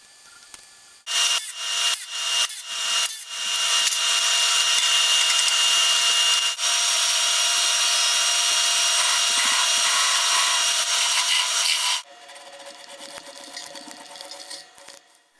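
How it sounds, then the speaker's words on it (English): A wood lathe turns the inside of a dry walnut salad bowl, with a few short scraping bursts followed by a long, loud, continuous rasping cut that drops to a softer spinning hum near the end. "With the outside of the bowl sanded, I can now turn it around and do the inside of the bowl."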